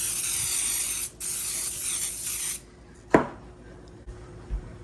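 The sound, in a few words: cooking spray sprayed onto a baking pan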